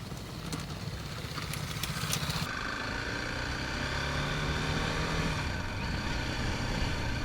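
A BMW G310GS motorbike struggles out of soft mud, its single-cylinder engine revving hard as the rear wheel spins. Clicks and rattles come first, then a sustained, loud engine roar that rises and falls.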